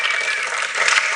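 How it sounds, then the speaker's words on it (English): A short burst of dense applause and clapping for singers and guitarists at a 2018 graduation ceremony, loud and continuous from start to finish. "Let's give our singers a round of applause"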